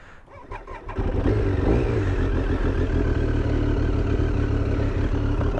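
A Triumph Daytona T595 motorcycle engine cranks and fires up after about a second, then settles into a loud, steady, throbbing idle close by with some mechanical clatter.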